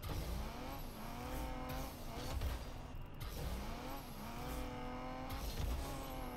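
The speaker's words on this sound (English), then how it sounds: "You can tap it so that maybe you don't skid as much." A car engine whines and revs in the Rocket League video game, pitch rising and falling repeatedly, with tire squeal from power slides under the steady drone.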